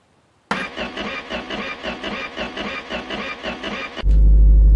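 A car engine in the video game My Garage cranks with a rapid, rhythmic starter churn for about three and a half seconds, then catches and settles into a loud, steady idle.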